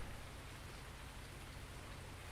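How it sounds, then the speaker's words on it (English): Steady rain hisses evenly and densely in Farming Simulator 19, with no pauses and no voices over it. "Well, and it's raining, so we won't be doing harvesting today."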